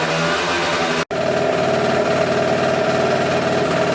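A scooter engine idles steadily after its idle mixture screw is set about three-quarters of a turn out, a close, loud, even putter with one short dropout early on.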